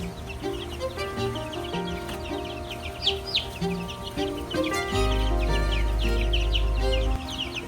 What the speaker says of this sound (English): So this is the giant chicken.